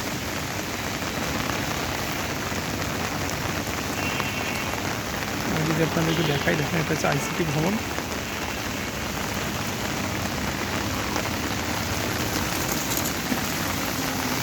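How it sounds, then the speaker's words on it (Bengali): Steady heavy rain pours down throughout in Agargaon, Dhaka, a dense continuous hiss of drops drumming on surfaces, with someone speaking briefly over it. "প্রচণ্ড বৃষ্টি হচ্ছে"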